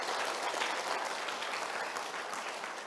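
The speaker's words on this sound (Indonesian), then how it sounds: "Tepuk tangan untuk kita semua." Audience applause at a university guest lecture, steady dense clapping throughout without gaps, fairly loud and even.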